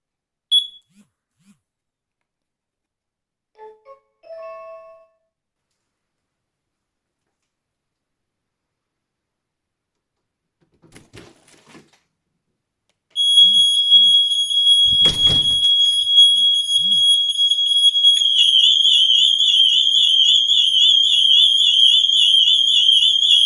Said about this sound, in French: L'alarme Ajax sonne en premier, mais il se passe seulement 3 secondes avant que la sirène Somfy ne s'active aussi